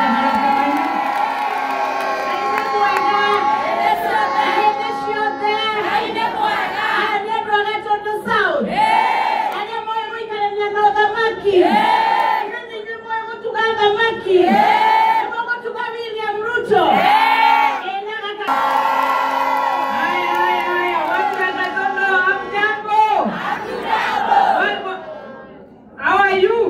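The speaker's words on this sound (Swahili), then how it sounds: "Wapi makofi ya Veronica Maina?" A large political rally crowd cheers and shouts for Senator Veronica Maina of Murang'a, a loud, sustained roar of voices that swells and dips in waves for nearly the whole stretch before cutting off at the end.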